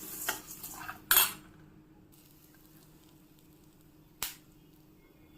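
Urad dal is roasted in a pan, with a few sharp clinks of a metal spoon against the pan and a quiet sizzle in the gaps between them.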